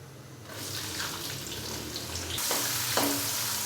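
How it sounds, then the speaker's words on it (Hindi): Finely chopped onions hitting hot oil with roasted whole spices for an aloo chana pulao, a close, dense frying hiss that swells and brightens sharply partway through. "प्याज को हम अच्छे से फ्राई कर लेंगे तकरीबन गोल्डन ब्राउन होने तक"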